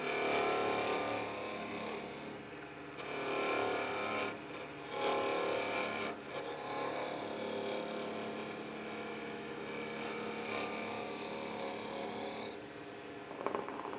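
A continuous rough, rasping scrape of a cutting tool on spinning wood, with shifting pitch and texture, loud and close.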